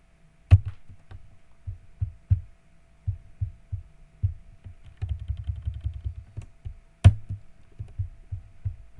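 Ctrl+M is pressed repeatedly on a computer keyboard, producing a run of close, dull key clicks in uneven clusters, a few sharper taps standing out over a faint steady hum.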